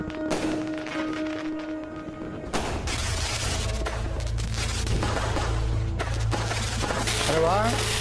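Firecrackers set off during a celebration in a Marathi crime drama: dense, continuous crackling bursts and sharp pops run throughout, with heavy booming layered over a steady tonal hum and noisy background.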